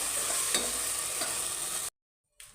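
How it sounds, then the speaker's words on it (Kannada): Ground masala paste frying in oil over medium heat for tomato bath, a steady close sizzle with a few faint stirring scrapes that cuts off abruptly into silence before briefly resuming. "ಚೆನ್ನಾಗಿ ಒಂದ್ಸಲ ಮಸಾಲೆ ಸೇರಿಸಿ ಎಣ್ಣೆಯಲ್ಲಿ ಫ್ರೈ ಮಾಡ್ಕೊಳ್ಬೇಕು."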